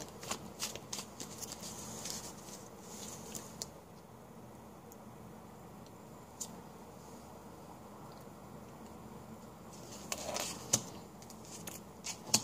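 Tarot and oracle cards are shuffled and handled at close range, a steady soft riffling and rustling that runs throughout, with a few sharper taps and flicks near the start and end.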